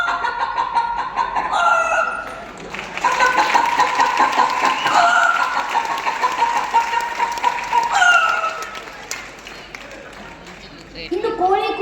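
A human voice imitates a hen and rooster crowing and clucking at a stage event, giving long, loud, wavering calls that rise and fall over several seconds, with brief breaks in between.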